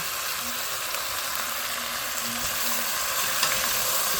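Pork spare ribs and taro simmer and sizzle in a pot for sinigang while being stirred, producing a steady, close hiss with faint stirring sounds.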